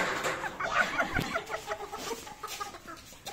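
A chicken clucks close by in a run of short, uneven calls over faint background noise, with no talk.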